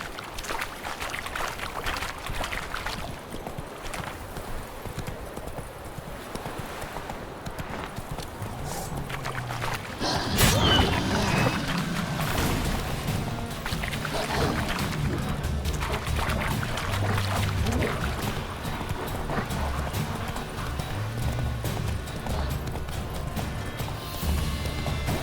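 Roach, a horse in The Witcher 3, gallops with a continuous drumming of hooves under game ambience, swelling louder midway as the pace picks up.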